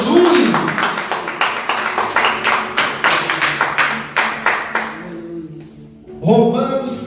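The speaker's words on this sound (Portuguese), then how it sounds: "Aplauda o nome de Jesus." A church congregation at a Sunday family service claps in loose, fairly quick rhythm, distinct sharp hand strikes sounding close, then tapering off as a voice speaks and rises at the end.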